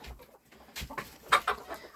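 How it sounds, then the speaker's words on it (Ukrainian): A small white chick in a farmyard peeps and scratches about, with faint, short bird calls and light clucks in quick scattered bursts, fairly quiet and close. "О, диви, біле курча тут бігає."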